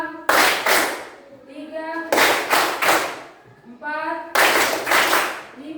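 A group claps together in rhythm to a count, with three sharp bursts of double claps, close and loud, alternating with a voice counting numbers aloud between them.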